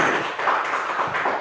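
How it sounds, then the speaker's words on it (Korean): A church congregation breaks into applause, a dense, steady wash of clapping hands that carries through the whole moment without a voice over it. "우리 고대성 형제에게 박수 한번 쳐주세요"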